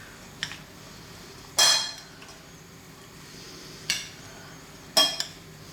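Utensils clink and scrape against a bowl while bulgur or couscous is mixed into a parsley-heavy tabbouleh salad, a few sharp knocks spaced apart over quiet background.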